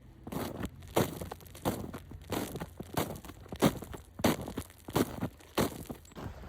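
Rhythmic crunching footsteps in snow, about ten steady steps close by, each a crisp compressed crackle with quiet pauses between.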